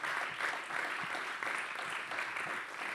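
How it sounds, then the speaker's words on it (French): A steady wash of audience clapping at a talk fills the whole stretch, even and sustained, with no voices on top. "On peut vous applaudir."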